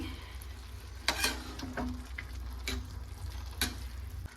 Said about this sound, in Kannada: ಮೊಸರು ಹಾಕೊಂಡ ನಂತರ ನಾನು ನೀಟಾಗಿ ಮಿಕ್ಸ್ ಮಾಡ್ಕೊಳ್ತಾ ಇದ್ದೀನಿ